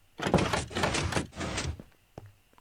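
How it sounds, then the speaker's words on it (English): Doors in the Minecraft video game open and close in a rapid series of clunky knocks, followed by a fainter, isolated click near the end. "I open these doors, I want these doors to open too."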